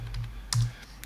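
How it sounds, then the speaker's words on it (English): Computer keyboard keys clack in a quick, uneven run of close taps while someone enters figures into steel design software. "So I'm typing in that figure to get this right."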